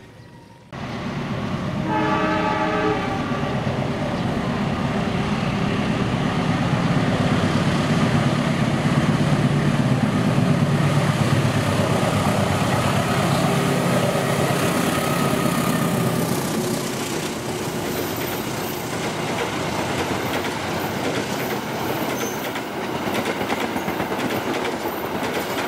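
Indonesian trains pass close by at Bekasi Timur: a loud, continuous rumble and clatter of rolling railcars that sets in abruptly and holds for the whole stretch, easing slightly toward the end, with a tonal horn-like note near the start.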